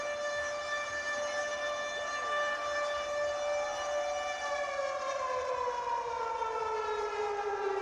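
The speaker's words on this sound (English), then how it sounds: "The siren going off." A civil defense style siren wails steadily at a football game, a loud sustained tone that holds then slowly falls in pitch toward the end, with no talk over it.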